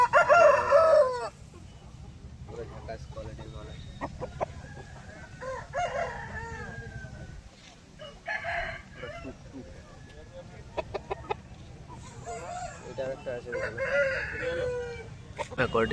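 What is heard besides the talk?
chickens and roosters crowing at a market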